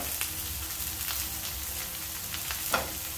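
Carrots and radishes sautéing in a frying pan, a close, steady sizzle with occasional crackling pops, no talking.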